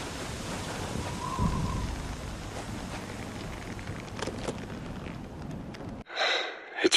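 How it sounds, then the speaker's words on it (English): Roaring wind-driven sand blasts through the air in a desert storm in the war game Spec Ops: The Line, a dense rushing rumble with gusts that cuts off abruptly near the end. "This is sand, flying through the air at 80 miles an hour."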